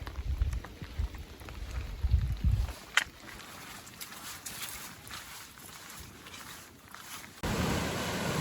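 Wind gusts buffet the microphone in low rumbling bursts on a rainy stretch of the Arizona Trail, followed by a steady wash of rain and wind noise with faint footsteps.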